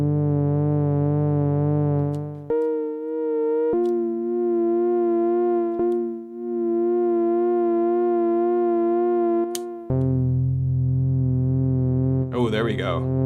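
An Elektron Syntakt synthesizer patch with negative envelope depth and added attack plays sustained, harmonically rich tones that shift pitch in several held steps, loud and close with no talking.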